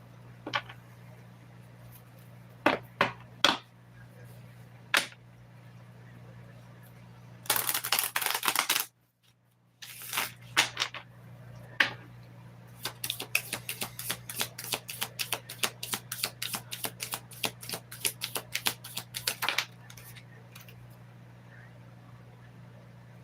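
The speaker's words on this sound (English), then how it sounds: "Let me shuffle the deck." A tarot card deck is shuffled close up. It starts with a few sharp isolated card snaps, then a brief riffle burst, a pause, and a long run of rapid crisp flutters over a low steady hum.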